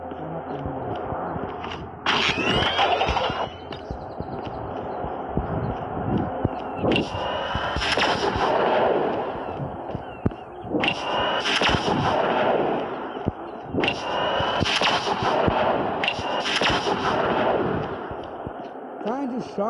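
Repeated bursts of loud, close gunfire and explosions from the Call of Duty Mobile video game, with clusters of shots separated by short gaps and a voice talking underneath.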